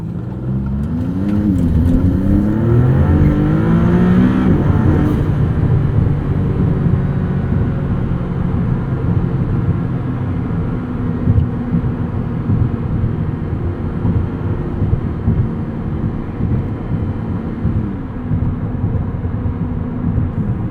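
A 2022 Maserati MC20 engine pulls hard from the driver's seat, with rising revs over the first few seconds that settle into a steady, loud cruising drone with shifting tones, and no voices.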